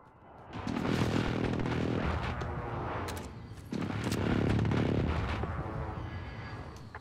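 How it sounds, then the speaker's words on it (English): Airstrike explosions in the video game Call of Duty Warzone on Rebirth Island: two long, heavy blasts rumble several seconds each, one after another, loud and booming with no speech over them. "Strike inbound."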